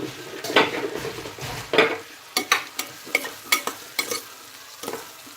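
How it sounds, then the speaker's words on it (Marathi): Khichdi ingredients frying in oil in a pan, with close sizzling and a quick series of sharp clinks and scrapes from a spoon against the pot, rhythmic and loud. "मस्त तळून घ्यायचं तेल सुटेपर्यंत"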